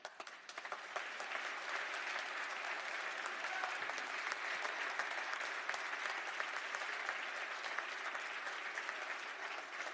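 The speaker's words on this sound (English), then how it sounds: "give a big round of applause" Sustained applause fills a legislative chamber during Maryland's State of the State address, a broad, steady wash of clapping that holds at an even level for the full ten seconds.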